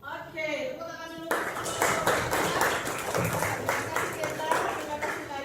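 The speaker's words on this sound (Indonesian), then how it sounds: "Oke, tepuk tangan dulu." A junior high English class claps hands together in a sustained burst of many overlapping claps after a single voice speaks briefly.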